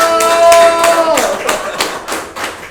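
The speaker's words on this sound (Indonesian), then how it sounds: "tepuk tangan yang meriah untuk Melani Subono" Studio audience applauding a guest on a talk show: a burst of loud, evenly spaced claps, with a voice briefly heard at the start.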